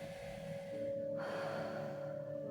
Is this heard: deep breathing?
yes